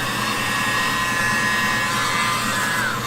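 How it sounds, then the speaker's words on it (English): A small air blower whirs steadily at close range over an acrylic paint pour, a constant airy hum with a faint tonal whine running throughout. "where's my little blower? Just want to hit that over the edge."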